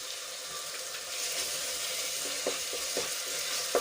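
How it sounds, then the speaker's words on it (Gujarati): Ginger, garlic and chili paste sautéing with onions in a pan for Gujarati dal dhokli, a steady soft sizzle with a few light stirring scrapes toward the end. "આપણું આદુ લસણ અને મરચાં સંતળાઈ ગયા છે"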